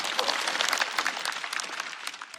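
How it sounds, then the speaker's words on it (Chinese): Studio audience applause at a Chinese stand-up comedy show, a steady wash of clapping for about two seconds that tapers slightly at the end. "我们再次把掌声送给王颖。"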